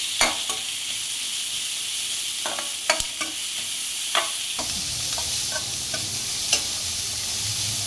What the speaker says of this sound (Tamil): நல்லா வெங்காயம் மிளகாயை நல்லா வணக்கி விட்டுக்கலாம்.